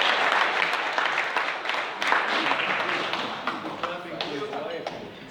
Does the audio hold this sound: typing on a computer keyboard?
no